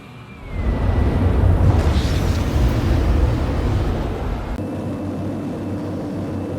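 A spaceship in the video game Star Citizen lifts off with a loud, heavy roar that swells quickly, holds as a dense rumble, then eases into a steadier, lower drone.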